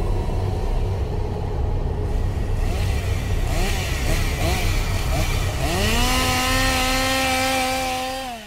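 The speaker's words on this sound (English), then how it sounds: "This is a chainsaw-wielding maniac" A chainsaw engine drones steadily, then revs up sharply toward the end, loud and close, with no talking.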